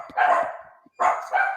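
Dogs bark nearby, loud and sharp, giving a quick pair of barks followed after a short pause by two more.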